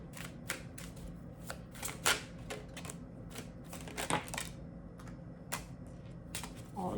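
A deck of tarot cards is shuffled and spills out, giving a series of close, crisp flicks and slaps at irregular intervals with a few louder clattering bursts, and no voices.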